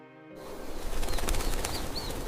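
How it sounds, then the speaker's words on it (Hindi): Birds chirp and coo from neem trees beside a village pond, with flapping wings and short calls layered over a steady, full outdoor ambience that sets in after a brief hum. "तालाब के किनारे नीम के पेड़ों से चिड़ियों की चहचहाहट गूंज रही थी"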